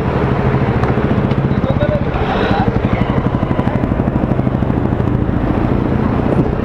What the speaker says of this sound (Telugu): బండి స్టార్ట్ చేసి చూద్దాం